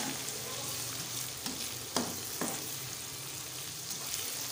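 Browned onions sizzle in a pan as spices are added, giving a steady close frying hiss with a few soft stirring knocks and scrapes.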